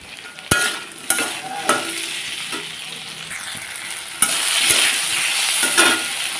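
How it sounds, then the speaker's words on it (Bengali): Potato, onion, green chili and tomato fry in a pan with a continuous sizzle, punctuated by several sharp stirring knocks and scrapes, loud and close. "আলুটা পেঁয়াজটা লঙ্কাটা একটুখানি ভেজে ভেজে নিই সুন্দর করে"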